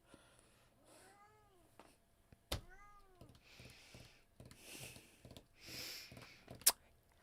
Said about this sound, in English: He's meowing at something outside the window.